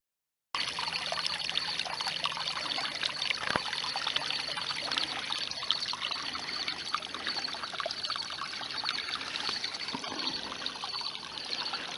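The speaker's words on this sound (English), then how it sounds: "it had a fairly decent amount of water coming into it, and it's a fairly deep little ditch, and it's got some nice little rocks" Water trickles and dribbles over little rocks in a fairly deep roadside ditch, a steady close babbling that goes on without a break, with no talking.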